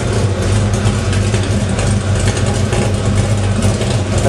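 A 1968 truck idles through dual exhaust, giving a steady, throaty, low rumble recorded up close with no voices over it.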